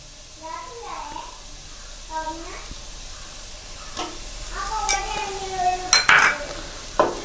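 Onion with crushed ginger and garlic sizzles in a pan for a Kerala chicken roast, a soft steady hiss broken by scraping stirs, with a voice chattering over it throughout.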